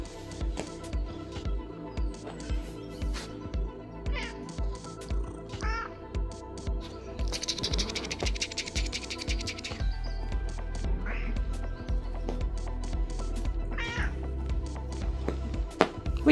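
A cat meowing in a few short, thin calls at moderate distance over a quiet indoor background, with some faint speech.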